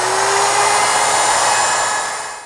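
A router table fitted with a 1/2 inch roundover bit runs loudly as it shapes a wooden chest edge, giving a steady, close, high-pitched whine that fades slightly at the end.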